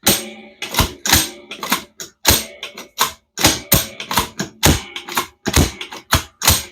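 A MARS trigger on a NAK-9 rifle cycling on the bench, the bolt slamming back into battery again and again: a rapid run of sharp mechanical clacks and snaps, loud and close, in uneven bursts with short gaps and no talk.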